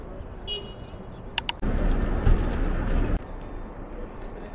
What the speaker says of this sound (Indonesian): Burung-burung itu kalau dikasih makan, ngumpul dia di sini.